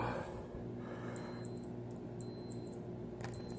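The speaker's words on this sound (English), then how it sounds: "that's my timer going off" A kitchen timer beeps in short repeated bursts, three clear electronic chirp sequences spaced about a second apart over a low steady background hum.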